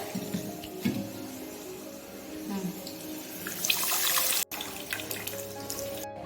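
Water runs and splashes into a pan while making a tamarind egg curry, a soft trickling pour with kitchen clatter, growing louder briefly near the end before stopping.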